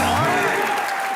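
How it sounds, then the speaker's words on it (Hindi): Studio audience of a Hindi television comedy show applauding, a dense, steady wash of clapping that fills the short stretch at an even level, with a voice faintly audible underneath. "ठोको एक बार ओरिजिनल सिद्धू बाजी के लिए तालियां"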